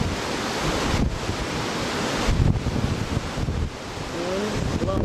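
Strong wind blows outdoors in chilly Alaska, buffeting the microphone in a loud, steady roar that swells and dips in gusts, with a faint tonal sound near the end.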